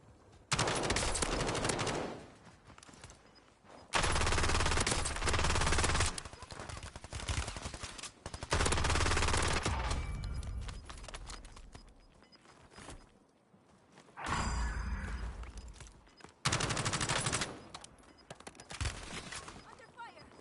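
Heavy gunfire from the video game Call of Duty Online comes in loud, dense bursts of rapid automatic shots, several seconds long and separated by brief lulls, with voices talking between the volleys.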